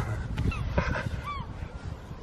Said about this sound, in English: Oh, seagulls.